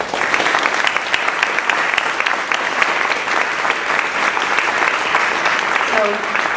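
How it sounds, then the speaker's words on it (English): Steady applause from an audience at a school board of education meeting, a dense, continuous wash of many hands clapping at close range, with faint voices mixed underneath. "I just want to say to all of you who applauded"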